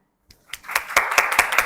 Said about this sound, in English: So big round of applause for your teachers.